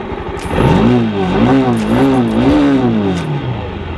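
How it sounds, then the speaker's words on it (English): A single Mahindra Mojo motorcycle engine revs up and holds a loud, rising and falling exhaust drone that wavers several times before easing off. "I want to show you the exhaust note right now"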